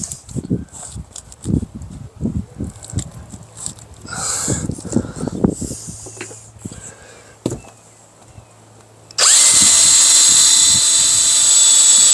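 Power drill driving a screw into wood during rot repair on a single-wide mobile home, heard after some knocks and handling as a sudden loud, sustained high whine that runs steadily to the end.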